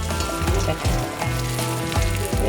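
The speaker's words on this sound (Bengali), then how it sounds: "এইভাবে আমি চিংড়ি মাছগুলোকে ভেজে নিলাম" Prawns frying in hot oil in a kadai, a steady crackling sizzle throughout with a few soft clinks and stirring bumps, close and fairly loud.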